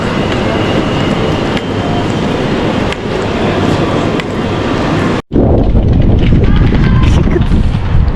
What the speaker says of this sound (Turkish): Şurada trenler var.